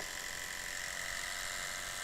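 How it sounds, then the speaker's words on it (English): A hacked electric toothbrush works as a small portable sander, making a steady, thin, high-pitched buzz throughout with no talking. "just from an electric toothbrush that you might have at home that you're not even using no more, but yet still works fine"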